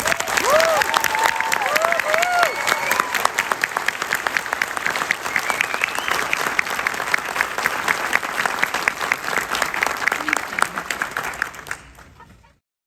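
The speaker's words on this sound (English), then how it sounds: "Let's give them a round of applause." Sustained applause from a large crowd at a Florida state trooper graduation ceremony, dense clapping with some cheering, continuing loudly for several seconds before tapering off at the end.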